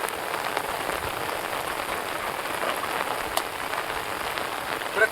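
Steady rain pours onto rock and ground outdoors, a dense continuous hiss of drops close by with a few sharper splats, no voices.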